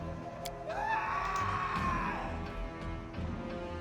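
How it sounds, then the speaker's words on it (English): A scream echoing down a hallway in the Pathfinder: Kingmaker video game, a single rising shriek that peaks and fades inside a dense backdrop of low, rumbling battle noise. "Scream echoes from the hallway."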